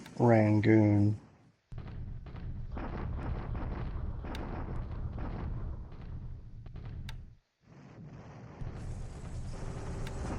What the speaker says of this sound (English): he's back to bombarding us here at Rangoon